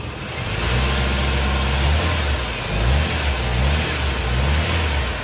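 A car engine revved up and down twice, its low throbbing drone rising and settling close by, running smoothly with no talking.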